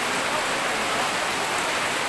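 Heavy rain pours steadily during a rainy outdoor birthday gathering, a dense, constant hiss filling the whole stretch with no pauses and no voices.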